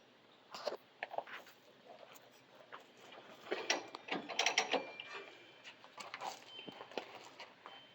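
A ratchet cranks on a demolition derby car, giving irregular metallic clicks and clanks in bursts, with a busier cluster midway, close and fairly quiet with no clear talk.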